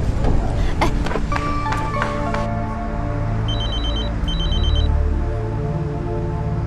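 A telephone rings in a television drama scene, with two short bursts of bright electronic trilling in the second half over steady background music and room tone.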